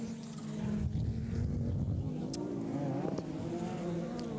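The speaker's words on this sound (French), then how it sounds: "Et c'est toujours la bataille entre Montagne et la BMW de Pitdam" Rallycross cars from a 1982 Dutch championship race at EuroCircuit Valkenswaard, including a BMW and a Ford Escort, roar past with sustained engine drone and revving heard from a moderate distance.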